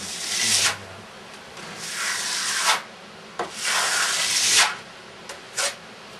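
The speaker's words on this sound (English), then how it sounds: "Working a trowel is a lot of wrist and arm, but I find it easier than painting." A trowel spreads American Clay plaster across a wall in several long, rasping strokes, each a smooth scraping sweep, followed by a couple of short scrapes and no talking.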